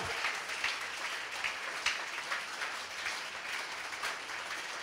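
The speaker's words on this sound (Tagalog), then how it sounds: "Sige, palakpakan mo ang Panginoon." Church congregation claps during a sermon, praising the Lord; moderately faint, steady applause with a few sharper claps standing out.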